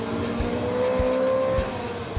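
A rally car engine runs at full throttle on a 2005 Otago classic rally stage, a steady, strained roar with rhythmic pulses, close and loud.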